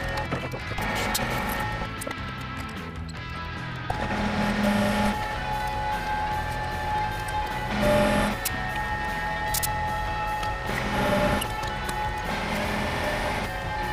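A lathe machines an aluminium-free engine spacer for a big-bore stroker 277, giving a continuous whirring, rhythmic mechanical drone with steady cutting noise and occasional louder swells, close and unbroken.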